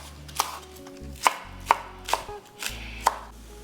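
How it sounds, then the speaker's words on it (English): A knife chops scallions into smaller pieces on a cutting board, six sharp, distinct strikes at an uneven pace, close and clear with no talking. "I'm also gonna take a few and I'm gonna cut them up into smaller pieces."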